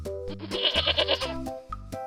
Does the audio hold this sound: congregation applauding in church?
no